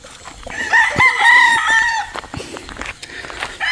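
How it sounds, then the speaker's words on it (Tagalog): A backyard breeder's gamecock crows nearby, one full cock-a-doodle-doo rising and falling over about a second, surrounded by scattered clucks and scratchy farmyard noise; no one talks. "Yung ating manok"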